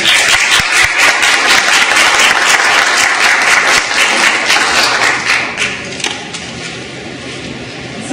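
Loud, dense applause from an audience at an artist talk at Broward College, steady for several seconds and then tapering off near the end, with no talk over it.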